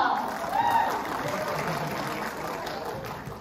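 An audience at an indoor night event applauds a song group coming on stage, a broad, steady wash of clapping from a crowd that fades a little toward the end, with a voice faintly audible through it.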